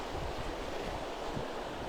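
Water rushes and churns close by, like a spring river swollen with meltdown, in a steady, dense hiss with no pauses or voices.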